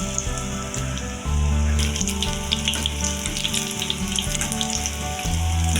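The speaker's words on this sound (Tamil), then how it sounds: "எண்ணெய் காஞ்சதும் எண்ணெயில் கூட டிப் வச்சிடும்." Onion bajji bubble and crackle in hot oil, a steady close-up sizzle with scattered pops and a brief splash as batter-dipped onions drop in, no voices.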